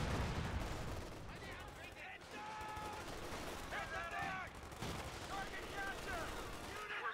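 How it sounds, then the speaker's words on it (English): A mortar half-track fires rounds in a Company of Heroes 2 battle, heard as repeated loud bursts of gunfire and explosions that run throughout, with a voice talking over them. "Mortar half track still alive, is pitching in some rounds."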